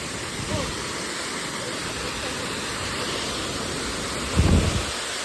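A mountain waterfall near Aups pours in a constant broad rushing hiss, close and steady, with a short burst of wind or handling noise near the end and no clear speech.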